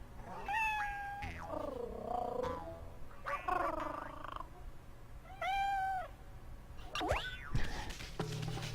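Several distinct cat meows from the video game Okami, repeated at intervals with rising and falling tones, loud and close with no talking over them.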